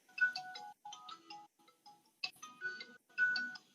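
An incoming call sets a mobile phone ringing with a melodic ringtone, its short tone phrases repeating with brief gaps, fairly quiet and heard alone in a room.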